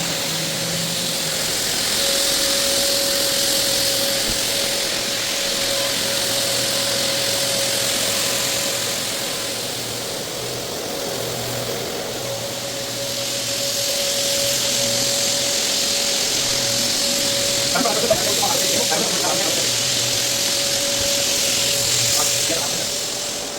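A floor machine screening a hardwood floor during a screen-and-recoat job, a steady loud motor drone with a constant hum that continues for the whole stretch and swells slightly in places.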